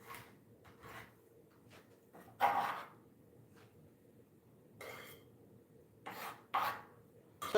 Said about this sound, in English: I'm gonna cut up our fresh thyme